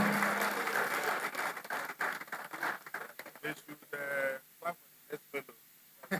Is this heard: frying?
no